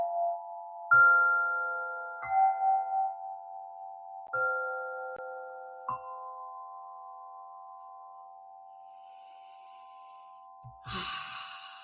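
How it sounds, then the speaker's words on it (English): Meditation chimes ring out in a quiet room, several sustained metallic tones struck one after another and left to decay slowly, followed by a soft breath near the end. "Just you can take a deep breath when you listen to the chimes."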